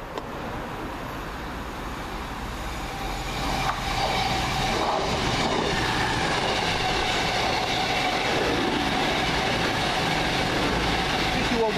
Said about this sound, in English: 444019. Next around the corner, 1 Oscar 16 from Manchester Piccadilly to Bournemouth.